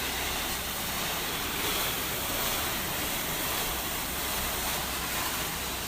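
Pressure washer spraying soap and bleach onto a surface, a steady broadband hiss of water spray that continues evenly and alone throughout at moderate distance.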